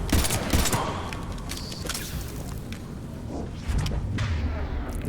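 Rapid bursts of gunfire from the shooter video game Mass Effect 3 crack and rattle in a dense volley, with booming impacts and mechanical clatter mixed into a loud, busy game soundscape.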